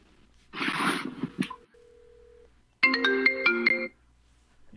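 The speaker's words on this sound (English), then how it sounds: "I'm calling you, Tom." A phone plays a ringtone for an outgoing call: a short electronic melody, a steady tone, then a second bright chiming burst. It is moderately loud and heard alone.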